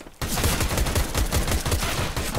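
Rapid, loud gunfire from the CS:GO video game on the Mirage map: dense overlapping shots rattle almost nonstop after a brief quiet opening, with no talking.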